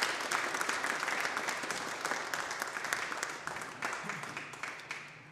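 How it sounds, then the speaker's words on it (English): An audience applauds a guest speaker at a speaker-series talk, a steady wash of many hands clapping that holds for over five seconds and fades slightly toward the end. "Richard, let's give him a big round of applause."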